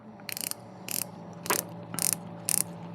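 Rotating bezel on a Thorn T008 dive watch being turned close to a microphone, giving five short bursts of crisp, tiny ratcheting clicks at a steady pace over a faint background hum.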